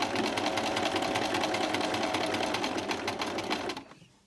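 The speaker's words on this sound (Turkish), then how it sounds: "düğmemin büyüklüğüne küçüklüğüne göre bir miktar dikiyorum" A domestic sewing machine stitches a buttonhole, running steadily at close range in a fast, even whir of needle strokes for nearly four seconds before stopping abruptly, with no talk.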